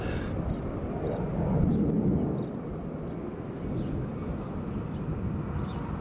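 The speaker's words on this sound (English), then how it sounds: "there may be some background noises if you're wondering what all the planes are" Aircraft engines at an air show roar in the distance with a broad, steady rumble that swells slightly and then eases, with no voices.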